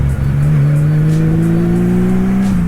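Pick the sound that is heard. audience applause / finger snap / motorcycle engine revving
motorcycle engine revving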